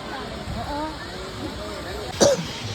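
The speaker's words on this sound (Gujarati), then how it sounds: "અત્યારે ઉધરસ છે" A single short cough breaks through near the end, following a stretch of talking.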